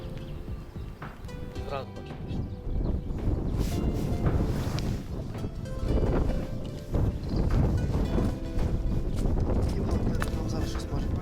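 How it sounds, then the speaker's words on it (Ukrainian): Gusty wind buffets the microphone with a constant rough roar and scattered patters of rain while fishing in Burshtyn, Ukraine, loud and close throughout. "І от почалася бурштинська погода, скажімо так, класична. Дощ, вітер."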